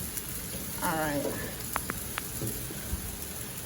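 Rain falling outdoors near a house patio, a steady soft hiss of drops with a few sharper taps, and a voice speaking briefly over it.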